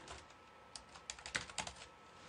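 A computer keyboard is tapped to type a login ID for an XMind subscription sign-in, a quiet, close run of about a dozen quick, uneven keystrokes with no talk.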